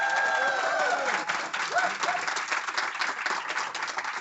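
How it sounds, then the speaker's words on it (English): A crowd at a mental wellness event applauds and cheers, with dense clapping and some whoops up front that gradually thin out, while a voice faintly talks beneath. "Just one big round of applause and a bit of noise from South Africa,"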